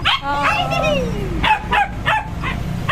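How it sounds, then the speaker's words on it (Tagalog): A dog barks and yips in short bursts close by at home, with a whimpering edge, over ongoing conversational talk. "Akala niya awayin siya ng aso."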